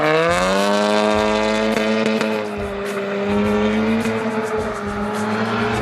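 A Ford EcoBoost Mustang with a twin-disc ceramic clutch accelerates hard, its engine note climbing steadily and loud through the gears, with a brief dip before pulling on at full volume, no talking.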